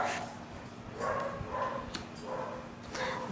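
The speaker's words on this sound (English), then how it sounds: "I'm sorry, my dogs are barking." Several household dogs bark in short, spaced bursts from a distance at low level, against a faint steady hum in a quiet indoor room.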